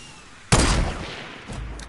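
A single loud sniper rifle shot in a video game cracks close by and rings out in a decaying tail, followed by a fainter distant report.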